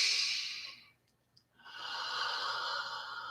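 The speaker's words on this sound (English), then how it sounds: "take another deep and clearing breath" A deep, slow clearing breath taken during a guided yoga meditation: a long steady inhale-like hiss, a brief pause, then a sustained exhale, close and quiet.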